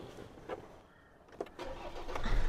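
A Ford Ranger engine cranks and turns over, with a few sharp starter bursts and then a steady rumble that builds toward idle, heard close up without voices.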